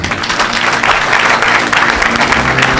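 A congregation at a French church service claps together in steady, dense applause, loud and continuous throughout without a break.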